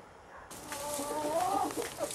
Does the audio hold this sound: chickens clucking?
yes